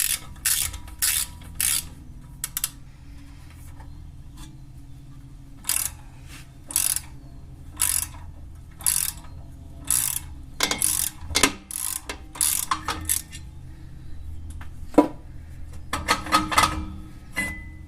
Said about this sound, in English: You just get a screw bolt that fits in there, and you just tighten it till it wedges the rotor off.